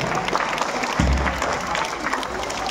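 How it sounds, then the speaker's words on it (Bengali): Students at a school sports event applaud, producing a continuous dense burst of clapping from a crowd with a low thump near one second, the clapping alone without distinct talk. "তাই ধরে হাততালি হবে।"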